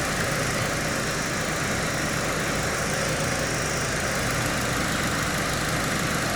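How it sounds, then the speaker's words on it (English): A 2008 Mazda 6 engine runs with its AC compressor engaged during a refrigerant charge, giving a steady, dense idling hum and vibration that holds evenly throughout with no talking. "And now we've actually got the compressor engaging."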